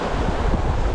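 Sea waves and surf crash against a sailboat in the Aegean, a steady close wash of water with wind rushing over the microphone throughout; no voices.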